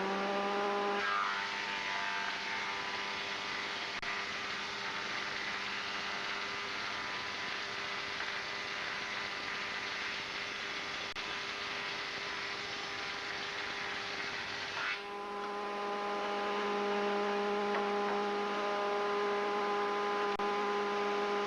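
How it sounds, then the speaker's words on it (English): A jointer machine planing a wooden board gives off a steady, moderately loud mechanical drone with a tonal whine that shifts slightly partway through, and no voices are heard. "We're going to run it through the joiner."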